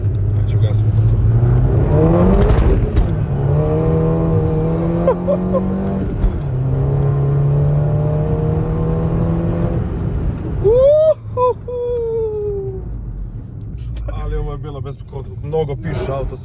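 A 2008 Seat Leon Cupra's engine revs up loudly in repeated rising pulls at close range, with people talking over and between the bursts.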